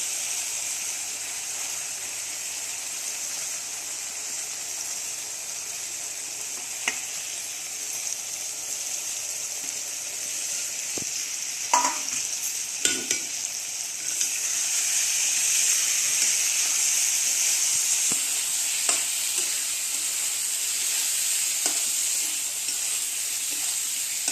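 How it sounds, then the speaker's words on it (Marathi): Eggs fry in a pan with a steady bright sizzle, joined by a few sharp crackles and spatters; the hiss grows slightly louder partway through, and no one speaks. "आता आपण याची अंडी टाकून घेऊया"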